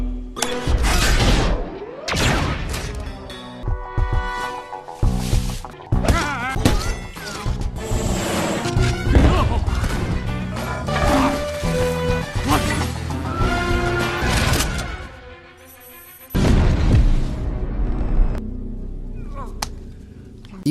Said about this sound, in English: Rockets, explosives, and chaos rain down on Gru while he's still outside.